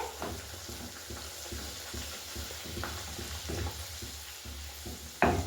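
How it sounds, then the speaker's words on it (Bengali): Pea-stuffed kachori sizzle and fry in hot oil in a pan, a soft steady crackle with occasional stirring and light clinks, heard close and fairly quiet with no talk. "এবারে কচুরিগুলোকে ছাড়া হচ্ছে তেলের মধ্যে, গরম তেলে"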